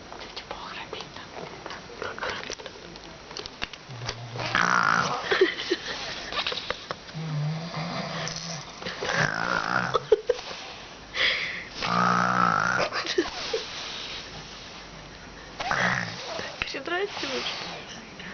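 A young child imitates snoring with several rough, breathy snorts, mixed with whispering and quiet adult talk nearby.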